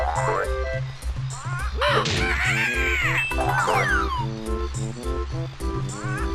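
Cartoonish bird squawks and caws from creatures popping out of holes in the Banjo-Kazooie video game, layered over busy game music with bouncing melodic effects throughout.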